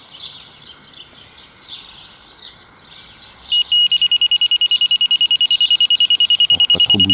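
A laser receiver's beep: ambient insect-like hiss, then from midway a steady series of loud, rapid pulsed high beeps that merge into an almost continuous tone, with a laser level on a twin-slope rugby setup.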